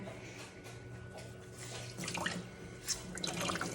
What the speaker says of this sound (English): So I get it wet and then I wring it out.